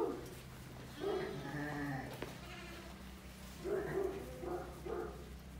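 Sheep and lambs on a sheep farm bleat at close range, one call around the first second and a cluster of bleats a few seconds later, over a low steady background hum.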